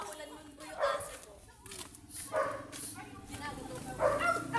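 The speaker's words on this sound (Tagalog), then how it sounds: "tinatahulan mo po yung aso po" A dog gives short yips and whimpering barks, quiet and somewhat distant, mixed under people talking outdoors while walking home.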